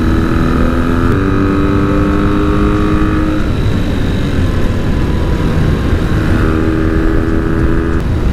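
A vintage Kawasaki motorcycle on the road, engine droning loud and close throughout with a steady hum that shifts pitch as the rider changes speed, plus constant wind rush.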